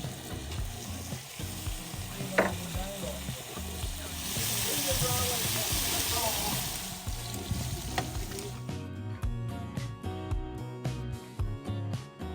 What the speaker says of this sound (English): Oh, it's like an Asian style stir-fried abalone.